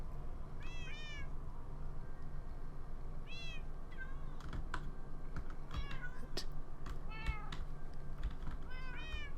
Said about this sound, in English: Look at the camera, Mr. No-Name Siamese Cat